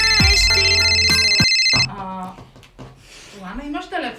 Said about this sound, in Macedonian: Лана, звонеше телефонот